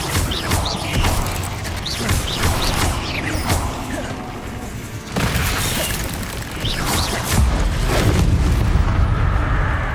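Confringo blasting spell explosions in Hogwarts Legacy, heard as loud booming blasts and crashing impacts over a dense layer of combat noise, with a sharp burst around the middle.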